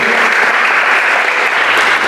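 A church congregation applauds during a sermon, a steady, dense wash of many hands clapping together that holds evenly from start to finish with no voice on top.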